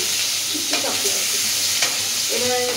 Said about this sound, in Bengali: এবার সবকিছু একবারে ভাজা ভাজা করে নিচ্ছি।